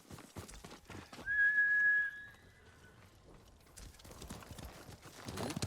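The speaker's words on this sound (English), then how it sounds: "I like how she neighs so off in the distance" In the Ghost of Tsushima video game, a single horse whinny rings out, clear but distant, amid faint rustling and footsteps.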